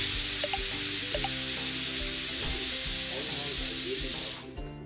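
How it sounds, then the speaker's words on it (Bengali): Garlic and chili sizzling in a frying pan, a loud steady hiss that runs close and unbroken for over four seconds before it drops away sharply at the end. "রসুন আর লঙ্কা ফ্রাই হচ্ছে"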